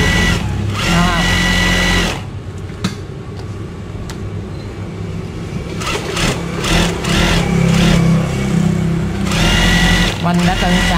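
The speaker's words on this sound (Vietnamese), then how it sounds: "máy may rất êm" An industrial electronic sewing machine whirs in several bursts of stitching, smooth and fairly loud up close, with someone talking over and between the runs.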